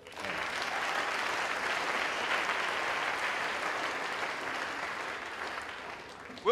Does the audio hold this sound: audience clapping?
yes